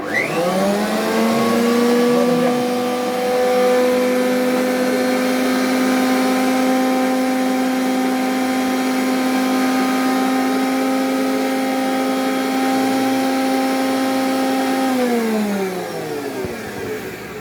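An Incco professional mini electric wood planer spins up, runs steadily at a loud, high whine for about fourteen seconds, then winds down, with no one talking.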